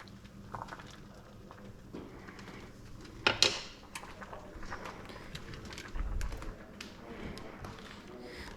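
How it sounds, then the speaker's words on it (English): Pasta and sauce being stirred in pans while making fettuccine Alfredo at home, with soft utensil taps and scrapes against cookware, one sharper clatter partway through, over quiet kitchen background. "I'm gonna re-stir the pasta now that it's looking pretty good"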